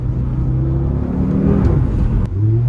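Low, rumbling exhaust from an Audi RS3 sits steady and close, with gear changes pulling the pitch up and down and a short pop partway through.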